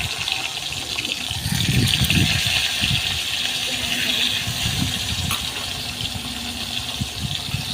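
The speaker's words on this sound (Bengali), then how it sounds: "এদিকে তেলটা গরম হয়ে গেছে, এবার আমি এর মধ্যে পাতাগুলো ছেড়ে দেবো একটা একটা করে।" Raw pumpkin leaves dropped into hot mustard oil give a loud, steady sizzle with spattering crackle that runs unbroken through the whole stretch, with no voices.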